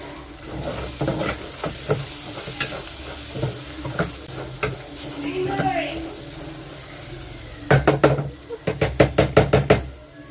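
Ingredients for rasam are sautéed in a pan, giving a steady sizzle broken by stirring scrapes, then a run of sharp spoon knocks against the pan near the end.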